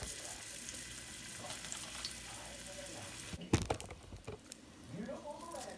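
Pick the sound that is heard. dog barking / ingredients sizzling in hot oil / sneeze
ingredients sizzling in hot oil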